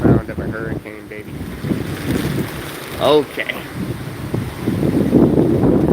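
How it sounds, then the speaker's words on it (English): Strong gusting hurricane wind (Hurricane Milton, Florida) roars and buffets the microphone, rising and falling in waves, with a person speaking briefly over it. "that is definitely the sound of hurricane gusts coming through"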